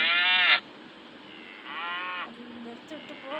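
A cow moos twice up close, first a short loud call and then a longer one after a pause, with faint outdoor noise between and after the calls.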